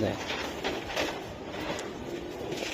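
Red-necked Giribaz racing pigeons coo softly nearby, low murmuring calls half-buried under someone speaking close by.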